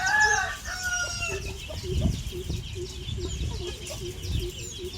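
Native chickens cluck and murmur inside a chicken shed, with a rooster's crow rising briefly at the start. A steady chorus of soft clucks carries on at moderate volume under the farm ambience.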